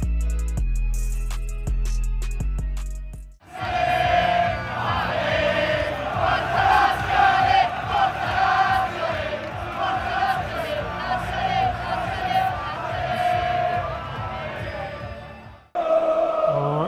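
Lazio away fans in a stadium stand chant together in a loud, sustained roar that rises and falls for about twelve seconds, then cuts off before briefly starting again.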